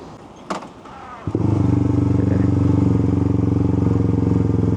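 A Suzuki GSX 150 with an aftermarket exhaust on a stock ECU sits in neutral, and after a couple of clattering thumps its engine settles into a loud, steady, close-up idle.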